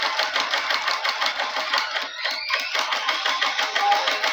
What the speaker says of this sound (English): I press down the pedal, so the machine will keep moving.